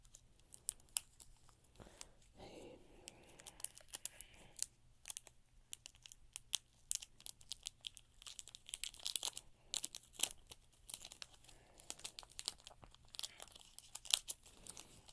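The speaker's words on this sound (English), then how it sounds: "I'll unwrap it from the plastic" Plastic wrap being peeled off an Amazon Echo Dot smart speaker, with quiet crinkling and tearing that comes as a dense run of small, irregular crackles close by throughout, with no talking.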